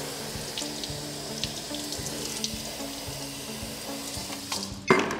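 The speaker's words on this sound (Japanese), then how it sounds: "こんな感じで水かけて" Water sprays steadily from a hose onto the tires and BBS wheels of a GR Yaris during a careful car wash, a continuous hissing splash with small irregular spatters and a louder burst near the end.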